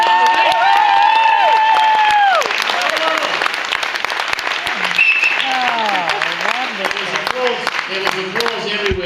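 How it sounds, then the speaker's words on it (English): An audience at a Number Crunchers grand champion round gives Reece a round of applause, with steady clapping across the room and voices talking and calling out over it. "So give Reece a round of applause"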